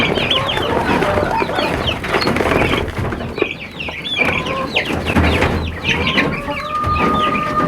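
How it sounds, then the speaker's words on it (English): Baby quail and young turkeys peep and cheep continuously inside a cardboard box, a busy overlapping chorus of chirps with soft rustling and thumps, close and fairly loud throughout. "I got the baby quail and the 2 turkeys loaded up in the cardboard box"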